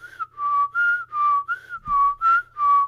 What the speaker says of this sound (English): I whistle by blowing in and sucking.